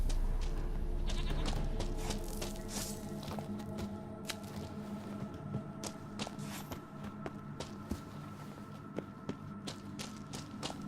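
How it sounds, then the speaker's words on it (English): Goat bleating in The Witcher 3, a few bleats heard amid in-game ambience of rustling and footsteps, fairly close and moderately loud. "where's this fucking goat?"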